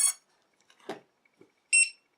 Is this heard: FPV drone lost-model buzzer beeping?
yes